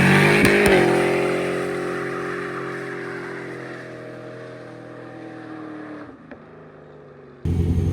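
A police Chevrolet Camaro with a bone-stock engine accelerates hard, its loud, close engine note climbing and holding through the gears before easing off, with no talking.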